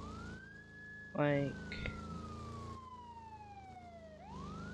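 Police car siren in the video game ER:LC, a long wailing tone sweeping slowly up and down, moderately loud, with brief clatter and a short spoken word partway through.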